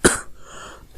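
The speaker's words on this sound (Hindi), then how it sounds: "सॉरी ज़रा खांसी लगी हुई थी" A single sharp human cough bursts out close to the microphone, followed by a brief quiet breathy tail.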